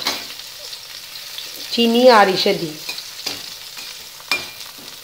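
Eggplant slices fry in oil with a steady sizzle and occasional stirring scrapes, while someone speaks briefly over the cooking.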